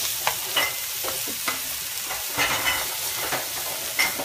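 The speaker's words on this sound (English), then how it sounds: "We're going to brown the sausage." Sausage browning in a pan with garlic and onion gives a steady close sizzle, broken by repeated scraping stir strokes, with no voices.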